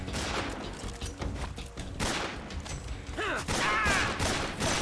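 Gunfire in Metal Gear Solid 3 comes as scattered shots and short bursts over game ambience and effects, with irregular sharp cracks of moderate loudness and no clear voice over them.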